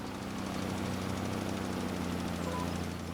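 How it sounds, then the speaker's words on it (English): A tractor engine in Farming Simulator 25 labours up a hill, producing a steady, dense drone with a low rumble and constant grinding texture, loud and unbroken throughout. "listen to the sounds of the tractor struggling to get up the hill"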